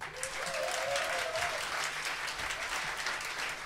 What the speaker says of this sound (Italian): al mio tre fare un applauso adatto allo streaming, elegante ma entusiasta